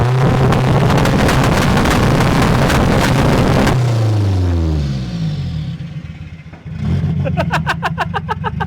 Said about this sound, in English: I had forgotten I set up two-step on this thing